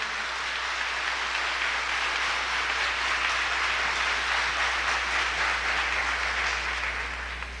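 A congregation at a Catholic preaching event applauds, a broad, dense roar of many hands clapping, loud and sustained without breaks over a low steady hum.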